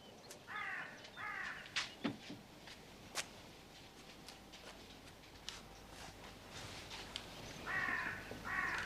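Crows caw in short hoarse bursts near the start and again at the end, landing on the deck of a Newfoundland fishing ship, with scattered ticks and knocks in between against a faint background.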